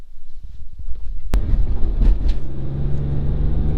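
BMW E46 M3 on a road test drive after a toe alignment: a steady low engine and road rumble from inside the car, with a sharp click near the start and no talk.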